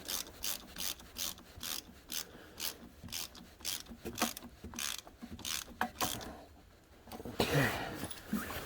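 Bolt being tightened with a ratchet while fitting a block heater to a Kubota BX23S compact tractor: a steady run of close, rhythmic clicking strokes with brief pauses, then a rustle and a faint clank near the end.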